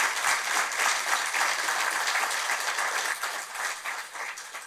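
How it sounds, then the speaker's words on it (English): Sustained applause from a seated audience at a breast cancer treatment presentation, dense and steady clapping throughout, fairly close and full, with slight swells and dips but no talking. "Let's give them a big round of applause."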